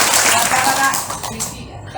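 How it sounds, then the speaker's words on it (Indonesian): An audience at a national scouting gathering claps together in a quick burst, dense and close, with voices mixed in before the clapping trails off near the end. "Tepuk tangan."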